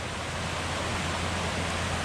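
Creek water rushes steadily near a waterfall on a hiking trail, a dense, even broadband wash with no pauses, close and fairly loud throughout.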